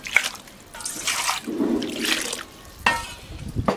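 More water goes into a clay cooking pot in an outdoor Kerala forest kitchen, heard as several separate close splashing pours with short pauses between them and no voices.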